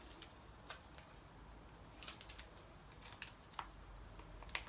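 Packing tape pulled and pressed onto a paper storage box for craft paper collections, a series of sharp ripping and crackling bursts spaced irregularly, close and fairly quiet.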